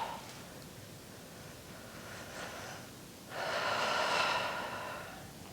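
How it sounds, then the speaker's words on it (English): Slow breathing during a Pilates reformer stretch: a soft nasal inhale followed by a louder, airy exhale through the mouth, close and alone with no talk. "We should be breathing in through the nose,"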